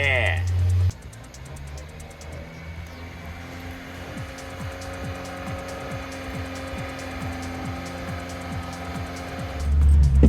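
A Subaru Sambar kei truck's small engine catches after a brief start and settles into a steady, close idle with a low, even drone. A faint ticking rides over the engine throughout, and the revs swell slightly near the end.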